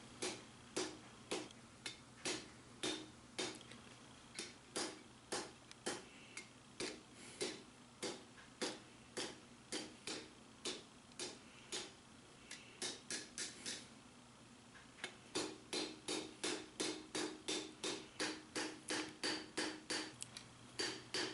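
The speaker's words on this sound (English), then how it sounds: "I'm just hammering it flat, drawing it out on both sides, both the edge and the back." Steady hammer blows ring out on a steel lawnmower blade being forged into a kopis short sword, sharp metallic strikes in an even rhythm, sometimes rapid bursts, close and clear with no talking.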